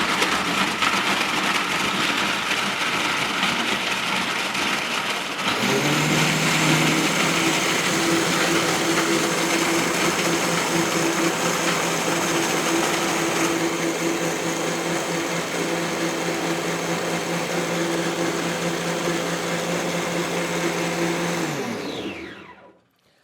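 A drink machine grinds ice for a coconut watermelon cocktail, a loud continuous motor whine with crunching ice that settles into a steady hum partway through before winding down at the end.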